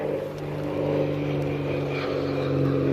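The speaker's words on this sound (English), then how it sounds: "You hear a little plane coming through." A small propeller airplane passes overhead outdoors, its steady droning hum holding constant and moderately loud throughout, with no voices.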